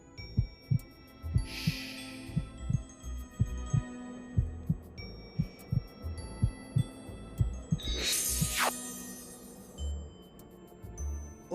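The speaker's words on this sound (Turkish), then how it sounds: "duyduğun kalp atışları aşktan maşktan değil, öfkeden." Steady heartbeat sound effect thumping in a regular double-beat rhythm, close and prominent, with a faint high tonal hum and a brief swelling whoosh midway.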